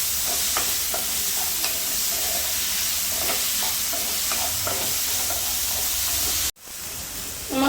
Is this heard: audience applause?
no